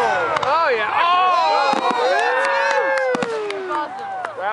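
Canada Day fireworks over Markham bursting in quick succession, sharp booms and crackles with whistling trails, while an excited voice shouts and cheers close by throughout.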